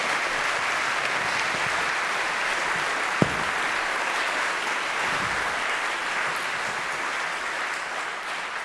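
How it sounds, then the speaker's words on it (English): An audience at the close of a festival evening gives a long, even round of applause, many hands clapping steadily with one sharp knock partway through. "round of applause for Dana Masters"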